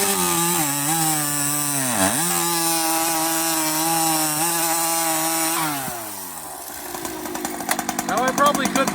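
A Husqvarna 372XP chainsaw fitted with carbon fiber parts and a new pipe design screams at high RPM while cutting wood, holding its pitch through a long cut before dropping off and rattling at idle.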